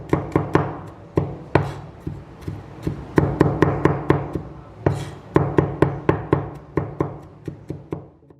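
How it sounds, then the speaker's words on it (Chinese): A knife finely minces garlic on a cutting board. The chops are sharp, close and loud, and come in quick rhythmic bursts with short pauses between them. No voices are heard. "将大蒜切成细小的碎末"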